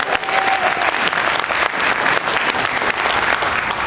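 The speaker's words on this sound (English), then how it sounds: "Let's clap for Justin, why not?" A live convention panel audience applauds, a dense, loud, steady wash of clapping from many people that fills the whole moment without speech.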